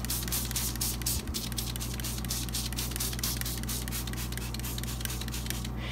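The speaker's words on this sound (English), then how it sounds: "Before you let them harden, you want to spritz them with alcohol." A spray bottle spritzes alcohol onto freshly made bath bomb embeds, giving a rapid series of short hissing bursts over a constant low electrical hum, with no talk.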